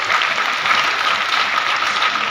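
Steady, dense applause from an audience honouring a team that saved water, continuous and fairly loud throughout with no break.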